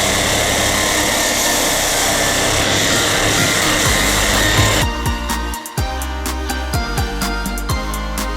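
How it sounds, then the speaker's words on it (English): A power sander strips paint from the bonnet of a Ford XR Falcon, a dense loud whir for several seconds before giving way to quieter scraping and scattered clatter. "So I pretty much just let the sander just do the work on this bonnet."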